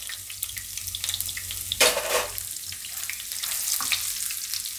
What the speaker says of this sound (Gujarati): હવે આપણે થોડીક હિંગ નાખશું.